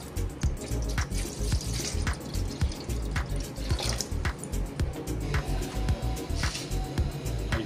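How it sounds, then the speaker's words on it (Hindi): Water poured into a pot while making jaggery masala chai splashes and trickles continuously at close range, with a busy, bubbling, dripping texture and no speech. "अभी इसमें 3 कप में पानी ऐड कर लूँगा।"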